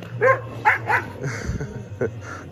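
A fierce guard dog barks in a few short, sharp bursts close by, with other background noise around it.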